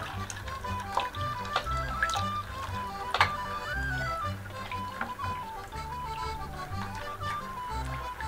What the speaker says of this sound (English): You got your soapy water, put the water in the barrel.